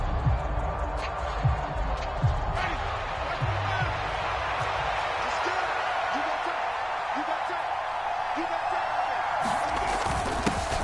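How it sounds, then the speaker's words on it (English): Stadium crowd cheering in a PS4 football video game, a continuous loud roar of many voices ahead of a fourth-down play, with scattered sharp thumps and shouts punctuating the steady wash. "Can the crowd help them one more time?"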